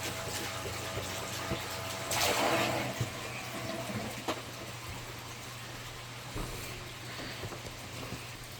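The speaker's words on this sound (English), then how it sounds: "It's still draining, as you can see." Water drains from a gold prospecting pump into a small cup at an outdoor New Hampshire dig, a steady trickle under a low motor-like hum, with a louder gushing burst partway through.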